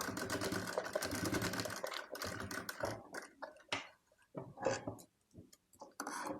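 Domestic sewing machine stitching and lock-stitching fabric for a baby's short top, a steady close whirring run of stitches for about three seconds, then short stop-start bursts with pauses in between.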